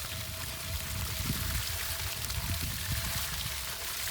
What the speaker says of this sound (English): we want to make sure we rinse off the nozzle threads as well